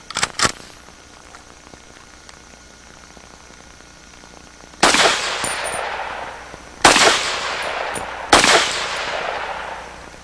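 A Walther WA2000 rifle fires three loud, sharp shots outdoors with ringing decay between them, preceded by a couple of faint distant cracks.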